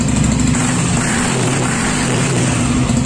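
A newly delivered motorcycle fitted with its original stock exhaust runs loud and close. The engine holds a steady, rough drone with a slight rise in revs and no talk over it.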